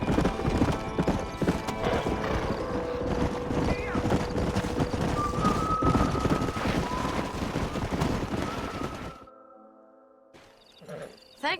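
Horse hooves gallop in the video game Red Dead Redemption, a fast, close clip-clop rhythm with wind rushing past, breaking off into a short quiet stretch at the end.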